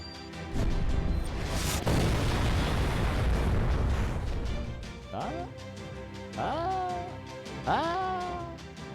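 A heroic spirit cannon fires in Fate/Grand Order, a long roaring blast that swells and rumbles for several seconds, followed by rising wailing cries that sound like screaming.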